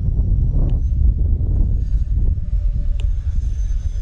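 An E-flite A-10 64mm ducted-fan RC jet flies on a gusty, turbulent day, its engine a steady droning rumble with a faint whine above, heavy low roar throughout and no break.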